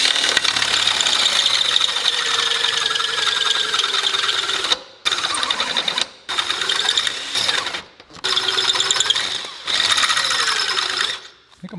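A drill with a 1/2 inch bit grinds loudly into the flat bed of an XP camper, a continuous harsh scraping whine broken by several short pauses.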